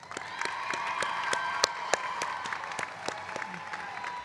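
Audience applause at a 2023 veterinary medicine college commencement, steady dense clapping from a large crowd with a few louder claps and faint cheering, no speech over it.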